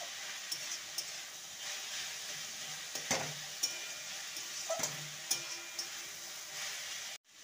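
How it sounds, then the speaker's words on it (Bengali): Drumstick leaves being stirred with sugar in a pan, a steady soft sizzle and hiss with a few light scraping knocks of the spoon, close and moderately quiet with no talking. "ভালো করে চিনি দিয়ে নেড়ে নেব।"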